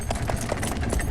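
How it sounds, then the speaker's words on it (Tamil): Horse hooves clip-clop in a quick, regular rhythm of sharp knocks, loud and close, over a rumbling backdrop. "நீ குதிரையை கிளப்பு."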